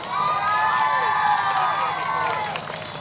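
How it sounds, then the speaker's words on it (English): A crowd cheers and applauds for Brunswick Fire Department firefighters at an open house, with shouts, whoops and children's voices over continuous clapping, loud and close throughout. "Let's give them a round of applause here."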